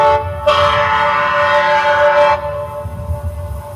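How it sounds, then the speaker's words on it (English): Centennial Train air chime whistle sounding O Canada, a loud sustained multi-tone chord blast lasting about two seconds, preceded and followed by a low background rumble with no talking. "it's got to sound like a train playing O Canada, not like a pipe organ or anything else"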